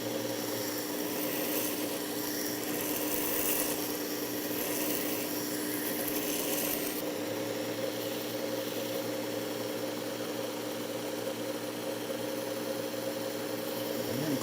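Coarse 120 grit abrasive grinding down a broken knife tip toward the bevel, a steady continuous rasping hiss and hum held at an even level throughout, close and alone.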